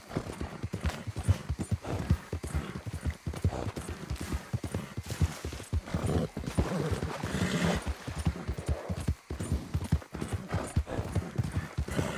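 Horse hooves clip-clopping in the Red Dead Redemption 2 video game, a steady galloping patter that runs continuously and fairly loud throughout, with no break.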